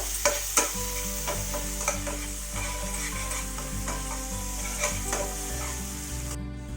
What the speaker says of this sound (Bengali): পেঁয়াজটা দিয়ে এখন নেড়ে চেড়ে অল্প সময় নেড়ে চেড়ে অল্প ব্রাউন হওয়ার পর